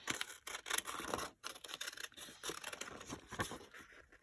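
Scissors snip through paper for a collage, giving a run of crisp, close cutting strokes with brief pauses between them and no talk over it.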